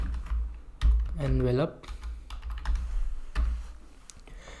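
Keys on a computer keyboard are typed in quick bursts of close clicks while a file name is entered, with someone speaking briefly over the tapping.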